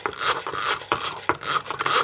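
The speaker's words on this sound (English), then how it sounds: "So you have to keep whisking it till it gets foamy" A whisk beats pancake batter in a bowl, making quick, repeated scraping and sloshing strokes close up in an uneven rhythm with no talking.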